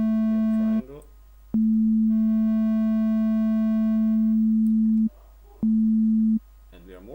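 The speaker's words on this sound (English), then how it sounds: "Now we are playing sine wave. We have triangle." A Massive wavetable synthesizer plays a pure, steady sine tone, then a brighter, buzzier triangle wave carrying extra overtones, the notes separated by short gaps where someone speaks quietly.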